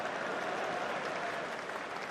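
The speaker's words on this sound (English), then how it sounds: "That's woken the crowd up" A cricket crowd at a Test match between England and the West Indies breaks into steady, loud applause that fills the whole moment without a break, with no voices standing out.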